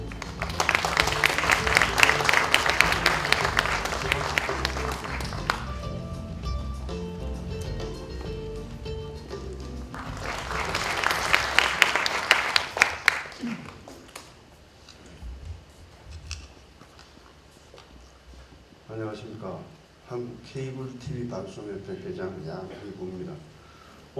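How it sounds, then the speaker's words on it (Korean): Two bursts of audience applause welcoming a speaker at a Korean broadcasting-channel industry ceremony, each lasting a few seconds and separated by a quieter stretch, followed by scattered taps and murmuring room noise. "박수로 모시겠습니다."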